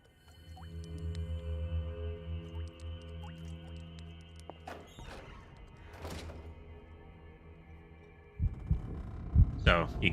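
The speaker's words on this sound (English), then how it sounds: "we start to hear a very heavy heartbeat" A heavy, throbbing heartbeat in the Call of Cthulhu video game, steady low pulses over a droning ambient hum, with a few thuds and a louder burst of noise near the end.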